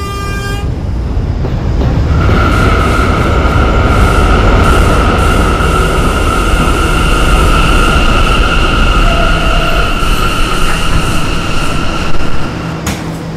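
A K subway train rumbles loudly through a station, with a sustained high whine and a brief horn toot near the start, steady and close throughout.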